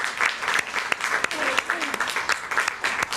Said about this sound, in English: Round of applause for Jaryus and Steve and Bob Taylor for getting us back up